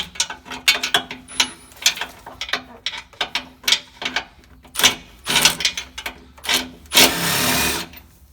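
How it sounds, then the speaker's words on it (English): Rapid ratchet clicking in repeated bursts as a 15mm deep well socket loosens the transmission mount nut on a 2014-or-later GM Silverado/Sierra, close and loud with brief pauses and a final sustained spin. "the only thing that's left is to take off the nut using our 15mm deep well socket"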